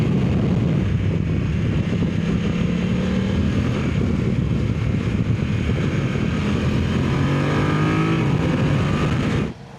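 A group of BMW F900 motorcycles rides together, their engines droning loud and steady with rising revs and heavy wind rush heard from a rider's position, continuous for nearly ten seconds before cutting off abruptly.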